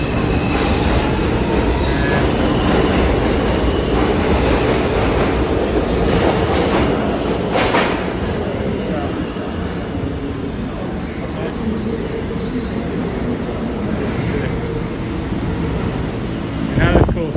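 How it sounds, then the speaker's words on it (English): A New York subway train at Wall Street station rumbles loud and close, with steady rolling noise, clattering wheels and brief squeals, voices faintly mixed in under the din. "I always want to see how the subway goes"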